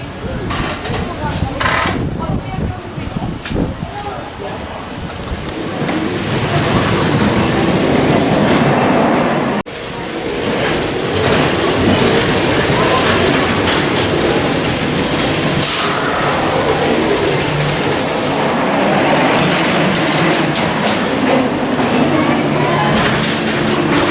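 Grand National wooden roller coaster train at Blackpool Pleasure Beach running along its track, a loud, continuous rumbling clatter of wheels that builds and rolls on for over twenty seconds, with riders' voices mixed in.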